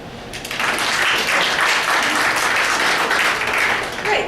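Audience at a stand-up comedy show bursts into applause, the clapping swelling quickly after a brief moment and holding loud and continuous, a full room responding together.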